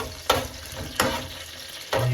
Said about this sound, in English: just give them a little simmer first